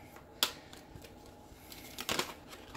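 Tarot cards shuffled by hand in a quiet room, two short papery riffling bursts, the first crisp and brief, the second longer and rustling, close to the listener.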